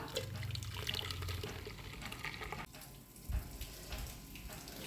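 Blended weight-loss juice mixed with water being poured through a strainer, a steady liquid trickle and splash running throughout with a brief dip midway, with no talk over it.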